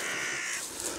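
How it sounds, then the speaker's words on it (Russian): A crow caws in a forest during a summer hike through cloudberry bog, fairly distant and moderately loud against quiet outdoor ambience. "Птичка какая-то."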